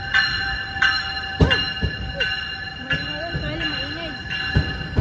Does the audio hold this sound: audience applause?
no